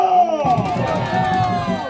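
A protest crowd in front of the Democratic Party headquarters in Korea shouts slogans together, a massed chorus of voices that carries loud and close over a steady rumble.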